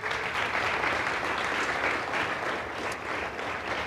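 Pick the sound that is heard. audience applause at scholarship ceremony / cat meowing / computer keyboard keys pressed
audience applause at scholarship ceremony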